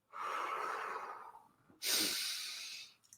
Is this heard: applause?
no